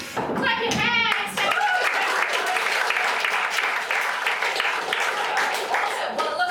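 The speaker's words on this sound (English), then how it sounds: "Clap your hands." An audience claps its hands in a burst of applause that follows a few brief vocal sounds, then holds as a dense, even patter of many hands with light chuckling mixed in.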